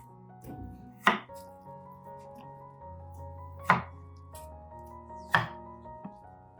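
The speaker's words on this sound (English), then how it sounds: "Next, take a knife and cut the potatoes into small pieces." Knife chopping potatoes into small pieces on a board, with three sharp, close chops spaced a couple of seconds apart and a lighter fourth knock at the end, heard alone against a quiet kitchen hum.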